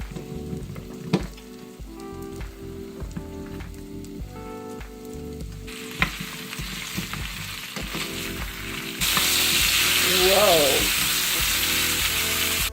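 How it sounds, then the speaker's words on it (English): Zucchini sautés in oil in a pan. A quieter stretch with crackling and a tonal, music-like background gives way to a sudden loud, steady sizzle over the final few seconds. "add in our zucchini and let those saute"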